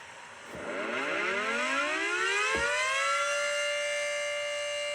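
A civil defense warning siren sounds from a distance, its pitch sweeping up from a low growl to a sustained loud wail that holds steady and alone.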